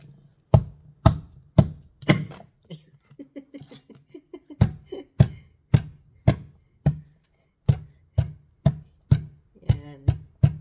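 Garlic crushed without a mortar and pestle, struck repeatedly with a makeshift tool in a kitchen, giving a series of sharp, close thuds in a steady rhythm with a brief softer patch of taps midway; quiet laughter mixes in.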